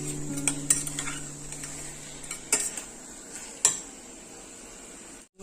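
Onions and potatoes sauté in a salted pan. A low sizzle runs under sharp clinks of a utensil scraping and tapping the pan, with a few separate metallic knocks.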